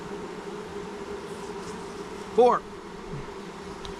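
Honey bees buzzing around an open nuc hive during a spring queen check, a soft continuous drone with one sharper, louder buzz passing close, while a person speaks briefly.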